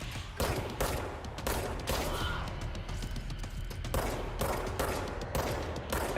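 Rapid video-game gunfire in Control: loud bursts of shots ring out in quick succession, with short pauses and a denser volley in the middle.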